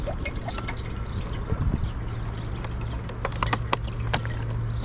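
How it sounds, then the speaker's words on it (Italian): Water is poured into a cooking pot while camping, a steady splashing trickle with a low hum underneath and small clinks, lasting a few seconds with no talking. "Mettiamo l'acqua."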